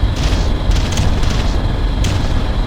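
Artillery bombardment in the Ground Control video game: a loud, sustained booming rumble with rolling explosions and a sharper crack near the end, dense and close throughout.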